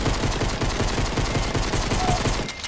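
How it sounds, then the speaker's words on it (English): Pistol fire in Fortnite: a rapid, evenly paced string of punchy gunshots running through the whole moment, loud and close, with no talking. "Anyone remember what the pistol used to sound like?"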